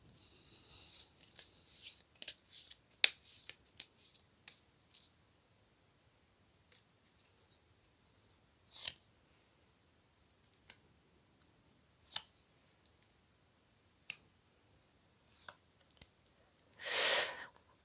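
Tarot cards drawn and shuffled by hand, a scatter of soft papery clicks and flicks, some quick clusters and others spaced apart, ending in a longer brushing rustle; quiet and close with no talking.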